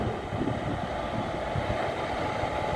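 Electric engine taking current from overhead lines as the train departs a station: a heavy, continuous rumble with faint rhythmic clanking underneath, near and loud, no voices.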